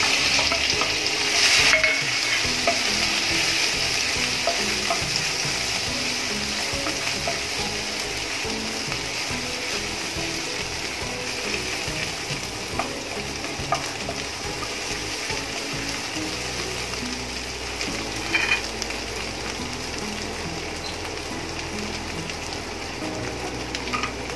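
A paste of ground garlic, green chili, coconut and coriander fries in hot oil for eggplant bharit, giving a loud, steady sizzle with occasional stirring scrapes and clinks throughout.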